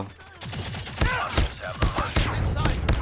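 Rapid gunfire from Call of Duty Mobile, with an AK-47 and SMG fights, crackles in quick bursts of sharp shots. Music or effects play beneath, and the shots grow denser toward the end.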